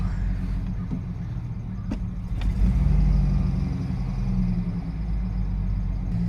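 A 1995 Ford Mustang engine runs roughly at idle close by, a loud low uneven rumble that surges around the middle, with a few faint clicks early on.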